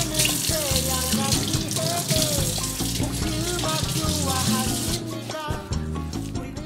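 Water from a kitchen tap runs steadily while beef flank is rinsed for ox bone soup, a continuous splashing wash that sits under prominent background music throughout.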